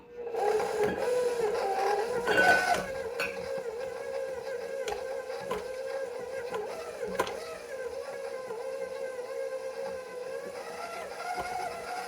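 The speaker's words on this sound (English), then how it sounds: "I'm holding on to my mixer because it's jumping around a little bit" Electric stand mixer on medium speed working pie crust dough, a close steady motor whir with rattling and knocking as the machine jumps, louder and rougher for the first few seconds before settling into an even hum, no talking.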